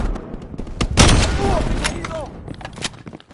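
Gunfire in a Call of Duty Cold War campaign battle, a loud burst of shots and booms with scattered rattling fire, mixed with shouted voices and game effects.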